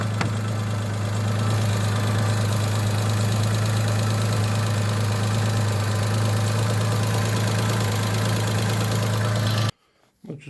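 A Daewoo Matiz engine idles steadily with a low, even rumble for about ten seconds, then cuts off abruptly.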